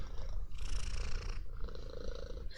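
A snowshoe cat purrs steadily while being petted, a close, rhythmic rumbling purr recorded in intimate binaural detail with no talk over it.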